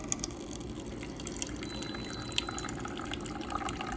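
Beverage machine pouring 12 ounces of liquid into a cup, a steady trickling stream with small splashes and clicks, close and moderately quiet, with no talking.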